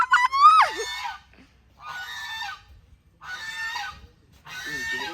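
A swan honks four times, each loud, nasal call lasting under a second and separated by short pauses. The bird sounds close by.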